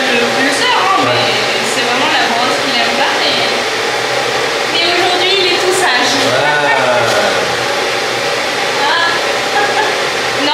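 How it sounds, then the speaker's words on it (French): A hair dryer blows steadily and loudly during dog grooming, a continuous whooshing hum with fluctuating tones as the animal shifts about and cries. "C'est un sèche-cheveux."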